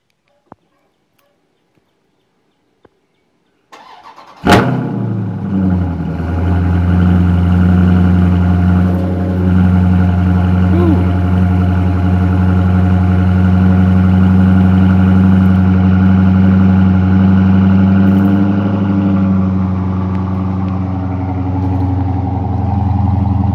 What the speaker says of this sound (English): Gonna do a cold start on the 2017 Daytona Charger